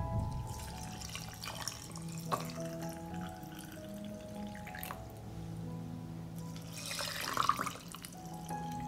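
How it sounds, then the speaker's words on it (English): Lukewarm water running from a tap into glass jars, a steady faucet flow with splashing and trickling, quiet and close, swelling briefly near the end as a jar fills to the top. "Fill the jars to the top with lukewarm water."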